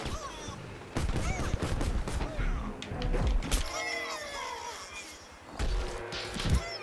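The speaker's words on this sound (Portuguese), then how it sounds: "de onde tá vindo aqueles tiros, velho?" Rapid bursts of gunfire in Plants vs. Zombies: Garden Warfare crackle in dense volleys, with impacts and thuds layered over a constant busy backdrop and some voices.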